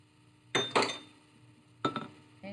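A wooden spoon stirs pancake batter in a bowl, giving a few close, sharp knocks and clinks in short bursts against quiet background.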